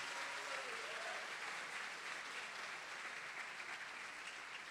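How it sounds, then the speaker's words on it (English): An audience at an awards ceremony claps steadily in a continuous round of applause, fairly soft and even, with no voices over it. "Give them a round of applause, everybody."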